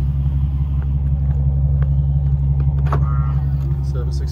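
A 2004 BMW 760Li with a custom F1-style exhaust idles with a steady, loud low rumble throughout, a continuous engine drone close by with faint background sounds and no spoken words.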